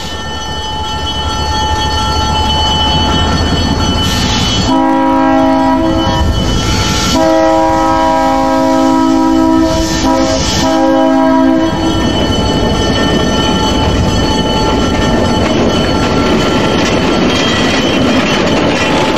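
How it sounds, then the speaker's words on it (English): A loud EMD diesel locomotive on the Adirondack Centennial Railroad rumbles steadily nearby, sounding a long multi-tone horn midway, then continues rolling with clattering wheels. "Easy to service, this EMD is also a fun locomotive to operate."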